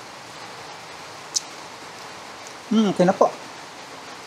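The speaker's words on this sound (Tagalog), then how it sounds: "Ang lakas po ng ulan, no?" Heavy rain falls steadily as a constant broadband hiss throughout, with someone speaking briefly near the end.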